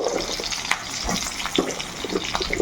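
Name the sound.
diced potatoes frying in hilsa fish oil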